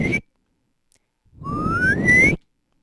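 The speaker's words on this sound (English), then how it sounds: "Suddenly, out came a real whistle." A real whistle blown by a small boy, a bright tone that rises steadily over about a second, preceded by a short earlier whistle burst, clear and fairly loud with no voices.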